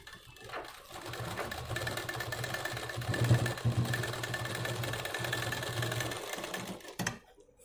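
A sewing machine stitches a blouse in a steady, continuous mechanical whirr with a low motor hum, close and moderately loud, then stops abruptly near the end.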